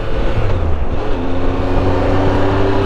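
A 2017 Triumph Tiger Explorer XCx adventure motorcycle's engine roars loud and close, a steady throaty drone that climbs slightly in pitch as it accelerates, with no talking.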